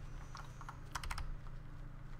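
Computer keyboard typing during a Minecraft modded play session, a short burst of several quick clustered keystrokes close to the microphone over a steady low hum, with no talking.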